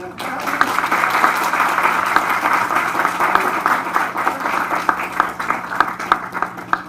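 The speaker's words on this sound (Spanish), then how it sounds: "a quien pido un fuerte aplauso" An audience at a lecture on monetary constitution and central bank independence applauds Dr. Gerardo Eto Cruz, with dense, steady clapping from a room full of people that continues evenly throughout, while a voice speaks faintly underneath.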